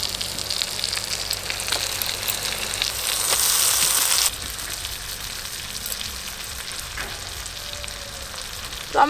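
A spiced masala for a rupchanda fish kalia sizzles in a pan as ripe red tomato quarters go in, giving a steady, close hiss of frying that swells briefly, then settles back, with no voices.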